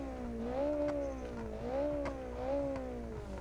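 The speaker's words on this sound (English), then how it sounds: "Alright, revving it up." A car engine revving in BeamNG.drive in a slow rising and falling pattern, a droning tone that swells three times.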